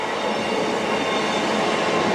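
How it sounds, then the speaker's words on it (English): A Northern train rumbles past close by, a loud continuous roar of wheels on rails with a dense rattling texture. "Oh, we've got a train."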